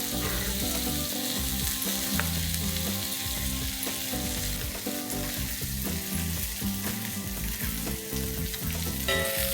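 Sliced onion fries in a pan as the base for tomato soup, sizzling loudly and steadily up close, with occasional stirring clatter and no voices.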